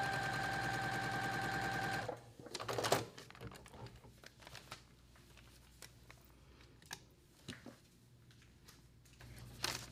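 A sewing machine fitted with an open toe foot stitches at a short stitch length, a loud, fast, even mechanical rattle for about two seconds, then stops, leaving faint handling clicks and rustles.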